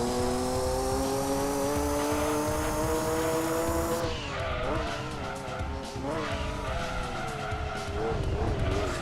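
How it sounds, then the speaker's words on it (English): Car wheel spin and tyre skidding in the racing video game Gran Turismo 2: a steady high engine whine, then from midway wavering squeals and scrabbling tyres as the revs flare and dip, loud and continuous with a commentator talking over it. "The wheel spin is absolutely catastrophic."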